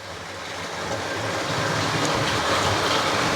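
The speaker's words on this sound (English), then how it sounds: "sit down nice and quiet and run my trains." A Hornby model train of the GWR Star and Castle classes rumbles along its track with a steady, rising whir and clatter, close and continuous, no voices.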